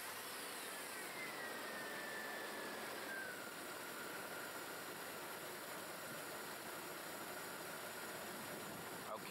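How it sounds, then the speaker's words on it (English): A car engine idles steadily during an alternator test, a low, even, continuous hum that stays faint and unchanging, with no talking. "you start the engine, let it run"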